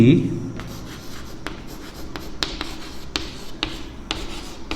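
Marker or chalk writing on a board during a coordinate geometry lesson, with repeated short scratchy strokes and taps at close range over low background hum.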